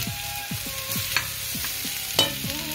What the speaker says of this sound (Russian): И жарим до золотистого цвета.